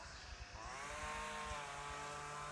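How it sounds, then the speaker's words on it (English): Outdoors, a petrol strimmer runs at a distance, its faint, thin engine whine rising slightly in pitch against a low rumbling background. "I think it's a strimmer actually."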